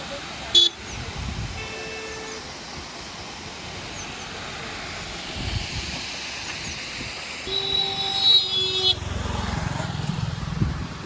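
Car driving on the road to Srisailam from Hyderabad, with a low running engine and road rumble under faint horn toots scattered throughout and a louder honking burst near the end.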